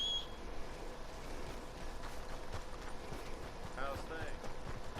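A horse's hooves clip-clop in Red Dead Redemption 2, a steady, fairly quiet rhythmic trotting over low game ambience.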